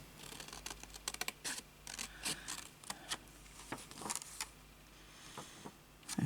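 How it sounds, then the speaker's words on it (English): Scissors cutting along a line through recycled paper for a junk journal, giving a run of soft, close snips and scrapes, faint and alone. "Now I'll try and cut along this line here."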